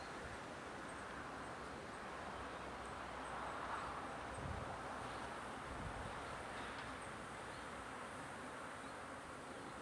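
Honey bees buzz around an open hive, a steady, faint, continuous drone with a few louder passes and some light rustling in the background.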